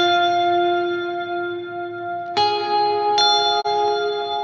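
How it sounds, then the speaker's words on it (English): Sustained guitar notes ring through a long modulated reverb tail lasting around 12 seconds, shimmering and wavering, with two fresh strums striking midway and a brief dropout near the end, no voices. "this little hero, the reverb, going on like 12 seconds with the modulating switch turned on"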